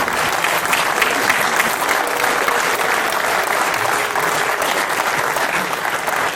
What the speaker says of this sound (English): A big round of applause to Kishore Rohida.